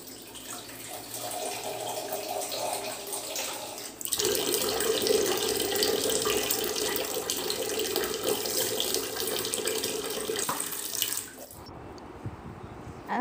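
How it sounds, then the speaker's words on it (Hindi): A child pours water in a bathroom, giving a steady splashing, running-water sound like a tap filling a sink. It grows louder partway through, then stops abruptly near the end. "बाथरूम में आ गया है और ऐसे पानी गिरा रहा है"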